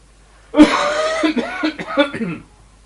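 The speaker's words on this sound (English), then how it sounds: "I heard someone cough." A person coughs several times in a short, rough burst, close by, the coughs trailing off into throaty clearing.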